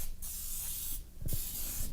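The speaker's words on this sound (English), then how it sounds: "I'm going to go ahead and spray the pan" Cooking spray hissing onto a baking pan in a home kitchen, two short bursts of spray close by, each about a second apart, with a faint clatter between them.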